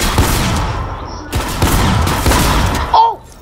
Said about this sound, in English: Someone sniped them from 132 meters.